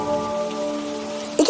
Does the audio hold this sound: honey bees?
no